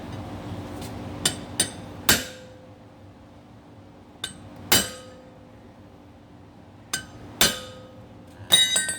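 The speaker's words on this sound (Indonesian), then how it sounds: "kalau udah kenceng, ujung dikeling ya, biar nggak kendor sendiri" A hammer peens the end of a replacement wheel bolt flat like a rivet, giving sharp, close metallic strikes in irregular single and paired blows with ringing decay between them and no talking.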